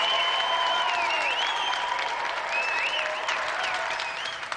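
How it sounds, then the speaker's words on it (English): Sustained studio audience applause for the winner on the Gamesmaster video game show, a dense, steady wash of clapping that holds loud throughout and eases slightly at the end. "let's have another round of applause for a brilliant winner, Josie Lawrence."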